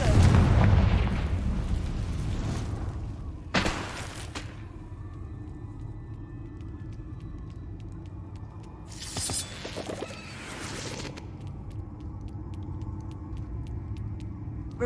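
Confringo spell blasts from Hogwarts Legacy, a loud booming burst at the start, then further broadband explosive bursts near four seconds and around nine to eleven seconds over a low rumbling game background.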